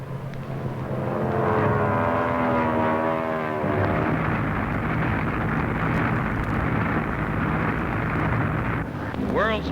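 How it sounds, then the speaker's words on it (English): Four Army Air Corps planes diving at 180 miles an hour to lay a smoke screen over a city, a loud steady propeller drone that shifts pitch midway, heard under narration with music. "Streaking down from the sky at 180 miles an hour, 4 Army Air Corps planes let out their blinding curtain."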